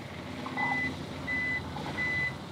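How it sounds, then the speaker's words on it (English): A Cinestill TCS-1000 film processor beeps three times at an even pace, each tone steady and clear, close by against a faint background hum. "so it beeps 4 times"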